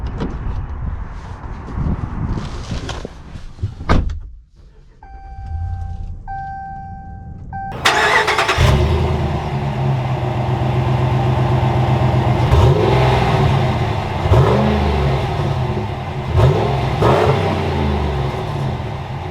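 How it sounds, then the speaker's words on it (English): A Ram 1500 Sport pickup, a Hydro Blue special edition, cranks and catches around the eight-second mark, then settles into a loud, steady engine rumble with swelling revs as it pulls away, preceded by a door and faint electronic chimes. "let's take this Ram 1500 Sport out and see how it drives"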